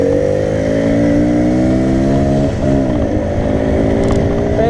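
A 72cc Alpha racer and a 150cc Scorpion Jet scooter rev their small engines loud and close, with a steady buzzing whine rising gradually in pitch, briefly dipping midway before climbing again.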